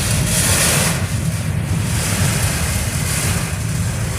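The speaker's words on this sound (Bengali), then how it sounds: "আমার ওয়েফার দেখে বুঝতে পারছেন যে কী পরিমাণ বৃষ্টি হচ্ছে" Heavy rain lashes down in a violent wind storm in Meghna Upazila, a dense continuous roar of rain and gusting wind buffeting the microphone, loud and unbroken with no speech.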